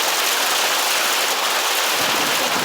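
Steady, loud rain hisses continuously with no break, close by and dense with no distinct drops standing out.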